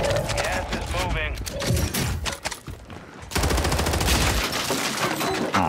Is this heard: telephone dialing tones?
no